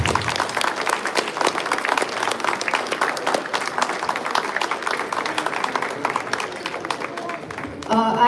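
Audience applause at a Deepavali and Rajyotsava community celebration, honoring the committee members on stage: sustained loud clapping from a crowd for about eight seconds, dense and steady, with a brief dip near the end before swelling again.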